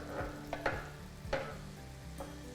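Sausages tipped into a pan with onions and browned, a steady close sizzle with a few scraping stirs and soft knocks.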